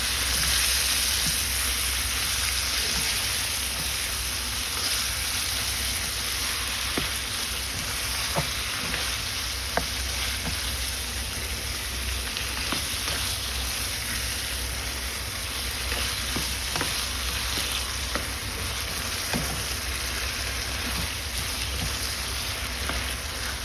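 An eggplant mabo nasu mixture sizzles steadily in a frying pan as a utensil stirs it, with scattered scraping taps over the constant close hiss of frying.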